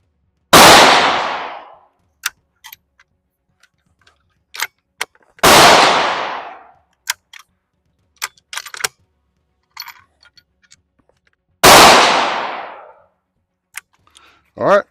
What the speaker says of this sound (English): All right, we're going with the second 3 shots.